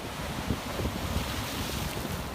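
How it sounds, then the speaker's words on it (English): Steady roaring wind buffets the microphone over the wash of surf at a coastal beach in Rockport, Massachusetts, a continuous blustery noise with no voices as a storm approaches. "The wind and waves are kicking up."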